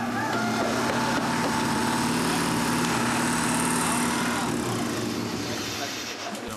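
A modified race car engine runs steadily and loud throughout, a continuous droning roar with busy mechanical texture, easing off slightly near the end; voices may be mixed in under the engine noise.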